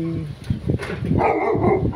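An angry dog barks and whimpers in a few short, sharp bursts at moderate distance, with voices heard alongside.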